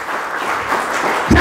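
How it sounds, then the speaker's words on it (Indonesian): A church congregation clapping during a Christmas service, a brief burst of steady applause that swells slightly, with a voice breaking in at the very end. "Kasih tepuk tangan untuk Tuhan Yesus."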